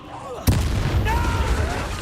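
Incendio fire spell cast in a Hogwarts video game bursts with a sudden whooshing boom after a quiet lead-in, followed by a sustained roaring crackle of flame.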